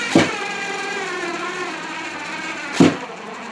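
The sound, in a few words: cordless screwdriver driving screws into wood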